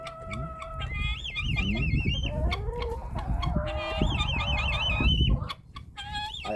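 Laying hens clucking and squawking close by on a farm, a continuous busy chorus of overlapping calls with a brief lull near the end.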